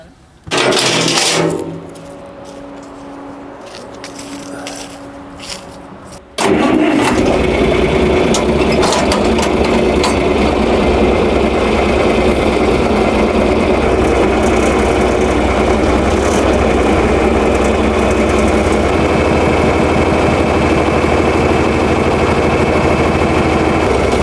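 An old farm tractor's engine cranks and catches after some faint clatter, then runs steadily at a loud, even idle with a low throbbing drone to the end.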